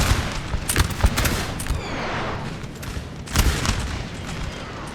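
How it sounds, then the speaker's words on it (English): Artillery guns firing on a Napoleonic battlefield in Napoleon Total War, several heavy booms and cracks over a constant rumbling battle din, moderately loud and spread out across the moment, with no talk. "Their silent artillery blasting."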